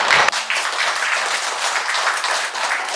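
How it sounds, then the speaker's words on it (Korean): Audience at a lecture for education office staff applauds the speaker, a guide to the site of Admiral Yi Sun-sin's death in Namhae, with a loud, dense, steady wash of many hands clapping that holds evenly for the whole stretch. "남해문화관광해설사님께 뜨거운 박수 부탁드립니다."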